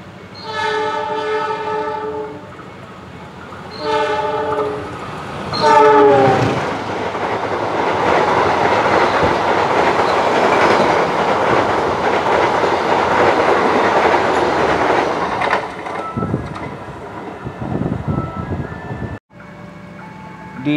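Economy-class KA Tegal Bahari passenger train in Indonesia, a loud horn sounding in repeated blasts near the start, then steady rumbling and clickety-clack of the carriages rolling along, fading toward the end.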